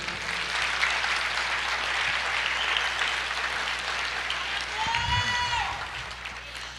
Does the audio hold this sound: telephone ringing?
no